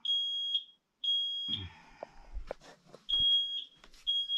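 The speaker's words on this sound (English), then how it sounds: "there goes the fire alarm for the second time today." A smoke alarm sounds in a smoke-filled cabin with a clogged chimney, giving loud, close, evenly repeated high beeps that pause briefly while soft knocks and handling noises are heard, then resume.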